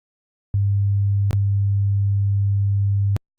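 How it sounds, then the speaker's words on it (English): A steady pure electronic sine wave tone holds at one pitch for about three seconds, interrupted by a brief click partway through, then cuts off abruptly. "it emits the selected sine wave immediately and doesn't stop"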